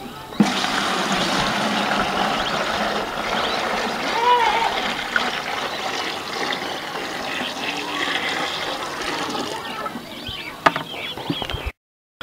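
Water gushes steadily into a drum, 20 litres being filled at the start of making a neem-based pest spray, a close, continuous splashing rush lasting about eleven seconds and ending in a few drips and knocks.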